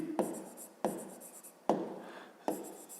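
A pen or pencil scratches on paper while a fifth-grade maths exercise is being worked, four short strokes each starting with a sharp tap and trailing off, close and clear, with no talking.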